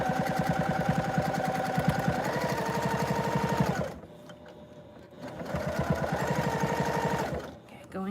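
A sewing machine stitching binding onto a tote bag runs in a steady, fast mechanical chatter, pauses for about a second, then starts up again for a second run.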